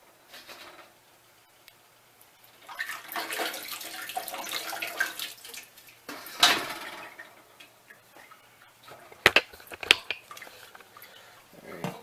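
Boiled grains and water pour and splash into a colander during home brewing, then scattered clanks and taps of metal against the sink, with quiet stretches between.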